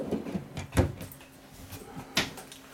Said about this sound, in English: this large pot and pan drawer. Again, on ball bearing rollers